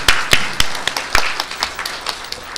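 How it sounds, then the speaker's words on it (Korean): A congregation at an all-night prayer service at a fasting prayer retreat gives a scattered round of thanks: sharp, uneven hand claps, a dozen or so in quick succession, fairly close and clear with no talk over them. "우리 목사님께 다시 한번 감사 박수 올려드리겠습니다."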